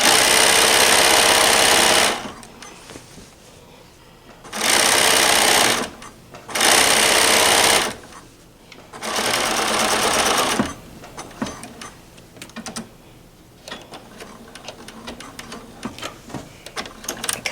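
A sewing machine stitches a skinny narrow hem close to a serged fabric edge, running in four loud, steady bursts separated by short quiet pauses with faint handling noise.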